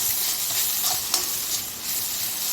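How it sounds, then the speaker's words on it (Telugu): Dried fenugreek leaves (kasuri methi) fry in a pan with a steady, close hiss of sizzling and a few faint stir scrapes, with no talk over it. "కసూరి మేతి కొంచెం పచ్చి వాసన పోయే వరకు ఫ్రై చేసుకోండి"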